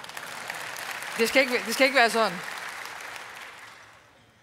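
Applause rises from the audience at the Social Democrats' 2015 party congress, a brief burst of clapping over a speaker's voice that then fades into the hall's ambient murmur.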